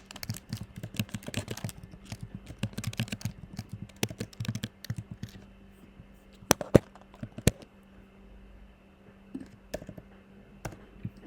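Close computer keyboard typing in a dense run of quick clicks during text entry, thinning out to a few scattered keystrokes and clicks in a quiet room, with no talk.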